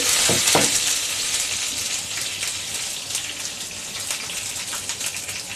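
Whole red chilies fry in hot oil for Kerala-style erissery, giving a loud, steady sizzle and crackle with a brief stronger burst near the start.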